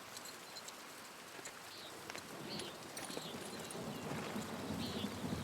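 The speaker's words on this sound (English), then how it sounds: "I hope this rain lets up for you soon" Rain falls steadily in the video game Pentiment, a soft continuous wash that swells slightly toward the end, with faint bird-like chirps and distant rumbles mixed in.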